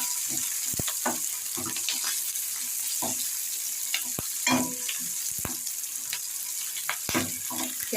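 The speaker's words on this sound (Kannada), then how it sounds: "ಎರಡು ಒಣಮೆಣಸಿನ್ಕಾಯಿ ಒಗ್ಗರಣೆಗೆ." Dry red chillies, onion and curry leaves temper in hot oil, sizzling and crackling close up, broken by repeated clinks and scrapes of a stirring spoon against the pan.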